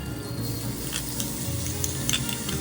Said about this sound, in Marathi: आता घालूया खडे मसाले त्यात हिरव्या मिरच्या आणि बारीक चिरलेला कांदा टाकून छान परतून घेऊया